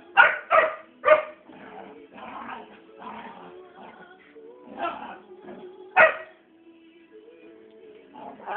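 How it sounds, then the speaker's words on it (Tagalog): A dog barks in sharp, close bursts, several quick barks at first and then a loud one later, with whimpering and yipping between them and no clear talking. "May sapak na yung aso na yun eh"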